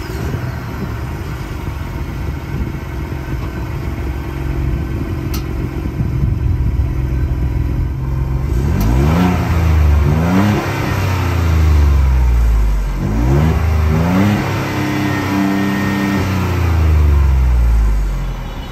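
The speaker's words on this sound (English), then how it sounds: "this twin turbo V6 makes really good sounds" A 2023 Ford Bronco Wildtrak's twin-turbo V6 idles with a steady exhaust burble, then revs hard several times in a row, each blip rising and falling loudly and close by.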